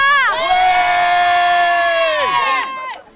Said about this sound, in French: Il y a du monde qui te regarde ici, il va falloir les faire crier.